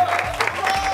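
A short burst of audience applause on a French game show, close, dense clapping lasting about a second.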